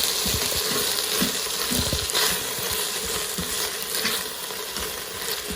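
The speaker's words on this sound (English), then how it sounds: "And then stir this up." Food being stirred inside an Instant Pot, a close, continuous bubbling sizzle with soft scraping and clinking stir strokes throughout, no voices.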